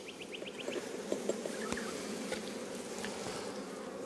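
Honey bees buzz steadily and densely at close range as a hive frame is lifted during an inspection, a continuous droning hum with a few individual bees zipping past near the microphone.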